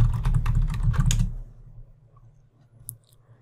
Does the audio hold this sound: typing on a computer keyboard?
yes